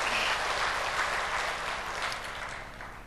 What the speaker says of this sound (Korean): 우리 박수를 하나님께 영광 돌리겠습니다.